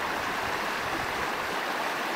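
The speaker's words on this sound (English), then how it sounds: "Big waterfall coming off the Mummery Glacier." Steady, dense roar of rushing glacier meltwater, a large waterfall coming off the Mummery Glacier heard close by, continuous with no breaks.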